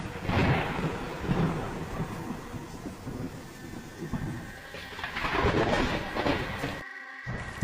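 Deep thunder rumbles roll through a heavy, continuous downpour of rain, swelling and fading in long waves before cutting off abruptly.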